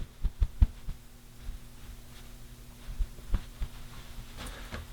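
Soft patting of a towel against a freshly shaved face after a Rockwell R1 razor shave: small clusters of muffled, close thumps with quiet pauses between them, no talking.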